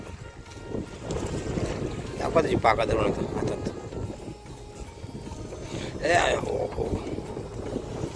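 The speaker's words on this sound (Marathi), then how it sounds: "वारा पण जाम आहे नेमका" Strong wind buffets a fishing boat at sea while lobster is being caught, a steady roaring rush with louder gusts, and people talk briefly over it.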